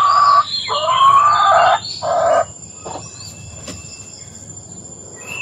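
Young RNR chickens about four months old, loud close clucking and a drawn-out crowing call in the first seconds, then quieter scattered clucks over a steady insect buzz.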